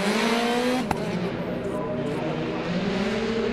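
Hyundai i20 rally car on a course with a chicane, engine note dropping sharply off the throttle at a sharp click, then burbling and rising again as it pulls away, heard under commentary.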